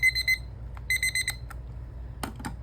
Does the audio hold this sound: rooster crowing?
no